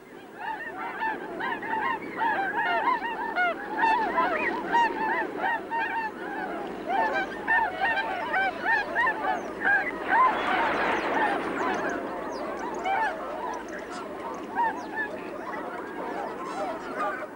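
Wild Bewick's swans at Slimbridge, a flock giving continuous overlapping honking calls that carry across open water at moderate distance, with no talk.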